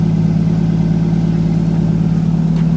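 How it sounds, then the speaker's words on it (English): A Nissan R32 Skyline with an RB20 engine idles steadily and close by, a smooth low rumble with an even exhaust pulse and no voices. "Idling great, no more exhaust leak."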